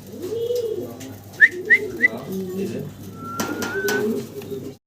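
A pair of pigeons cooing nearby, with low rolling coos repeated across the span and a few brief higher chirps, while someone talks over them.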